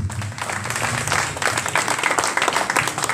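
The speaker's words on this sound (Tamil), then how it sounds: "நானும் கரகோஷங்களை இருக்குமாறு கேட்டுக்கொள்கிறேன்." An audience at a school alumni meet claps in a busy, continuous wave, with a low rumble of the hall and some murmuring beneath.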